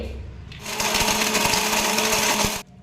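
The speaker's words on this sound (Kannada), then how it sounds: "ಇವಾಗ ಅದೇ ಪ್ರಕಾರ ಕೊಬ್ಬರಿ ರುಬ್ತಾ ಇದ್ದೀವಿ ನೋಡಿ" A kitchen mixer grinder grinds dry coconut to a coarse texture, a loud, steady motor whir with rattling that starts abruptly and runs for about two seconds before cutting off.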